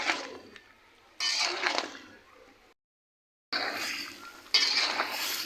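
Chicken and jackfruit curry stirred in a pot, heard as loud bursts of scraping and clattering utensil on metal with sizzling, separated by a short silent gap before a second vigorous round.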